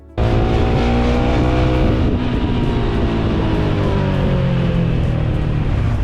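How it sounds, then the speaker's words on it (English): A loud, steady motorcycle engine drone, AI-generated, holds one even pitch throughout, rich with layered harmonics and no pauses or changes in speed. "an extended loop of a steady RPM engine sound of my motorcycle"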